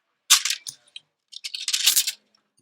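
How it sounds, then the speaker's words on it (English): A small piece of jewelry wire being cut for a wrap, two short bursts of sharp metallic snipping and clicking close up against a quiet background. "I'm going to cut off another little piece of wire."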